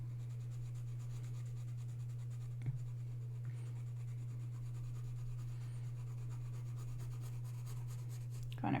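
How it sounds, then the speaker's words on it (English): A 2B graphite pencil shades across paper for a misty landscape drawing, making soft, faint, continuous scratching over a steady low electrical hum. "I'm using my 2B pencil."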